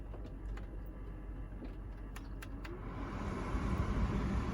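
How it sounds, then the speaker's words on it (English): A Range Rover heater blower fan spins up inside the car after a final stage resistor replacement, a steady whooshing hum that grows louder over the last second or so, with a few faint ticks before it. "and then we'll see if the blower works."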